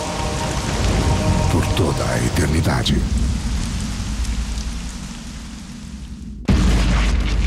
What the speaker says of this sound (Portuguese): E a primeira chuva forte apaga a chama.